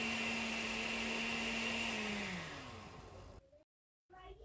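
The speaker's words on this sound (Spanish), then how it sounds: "Vamos a poner las guayabas y las vamos a moler perfectamente." A blender grinds guavas with water at a steady high whir for about three seconds, then the motor winds down and stops, leaving brief silence before a few faint clatters.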